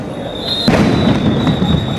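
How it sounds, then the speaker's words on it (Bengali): A sound grenade bursts loudly at a street protest, a sharp blast followed by a broad, rumbling roar and lingering noise, with a faint steady whistle-like tone underneath. "সাউন্ড গ্রেনেড নিক্ষেপ করা হচ্ছে"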